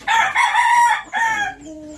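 A Japanese Shamo rooster crows close and loud, one strained, drawn-out call broken into two main bursts, trailing off into a fainter tone at the end.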